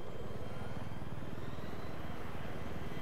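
A Battlefield 3 attack helicopter churns steadily with a low, pulsing rotor thump and engine drone, constant and moderately loud throughout.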